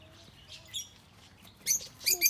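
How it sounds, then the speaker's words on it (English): Parrots at an outdoor enclosure give a few short, shrill chirps and squawks, moderately close, between quieter stretches of background ambience. "Oh, we've got parrots."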